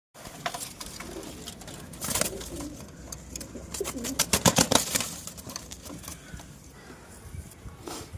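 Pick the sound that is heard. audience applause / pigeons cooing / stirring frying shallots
pigeons cooing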